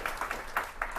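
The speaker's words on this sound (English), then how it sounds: "let's give them a round of applause" An audience claps for Venture for America fellows at a panel on millennials and entrepreneurship, a short run of scattered hand claps that rises and falls in uneven bursts, fairly near.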